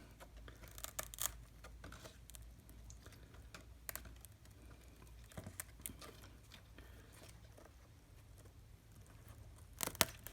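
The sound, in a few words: scissors cutting Philodendron squamiferum stem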